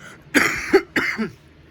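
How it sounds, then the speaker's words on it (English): Two quick, close coughs in succession, harsh and throaty, with a short pause between them. "Excuse my cough."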